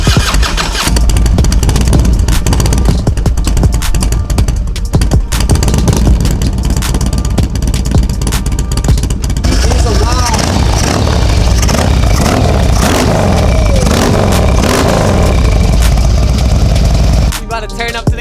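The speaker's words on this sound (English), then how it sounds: "we are about to start the bike after the oil change" A Harley stunt motorcycle, fresh from an oil change, cranks and fires up, then idles and revs hard in loud, close, rising bursts that continue to the end.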